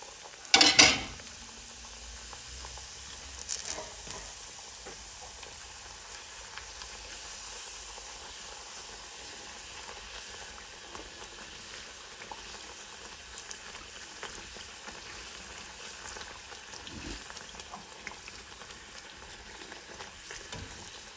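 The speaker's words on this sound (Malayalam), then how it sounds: "പൂരികൾ ഞാൻ ഫ്രൈ ചെയ്ത് മാറ്റിക്കൊണ്ടിരിക്കുകയാണ്" Masala pooris fry in a pan of hot oil, a steady soft hiss and sizzle running throughout, opened by a couple of sharp close clatters of utensils, with no talk.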